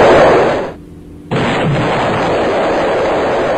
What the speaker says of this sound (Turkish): Bu patlamalar nereden geliyor?